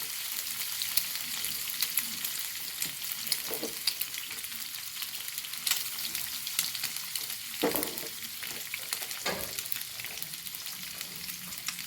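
Egg fries in hot oil with turmeric powder while being stirred, giving a steady close sizzle with intermittent scraping and stirring strokes throughout.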